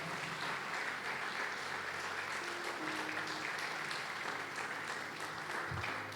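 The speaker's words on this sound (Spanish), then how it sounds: "Dale un aplauso al Señor si lo crees" A church congregation applauds steadily during a Spanish-language sermon, a dense, even wash of clapping that holds at a constant level throughout, with a few faint voices mixed in.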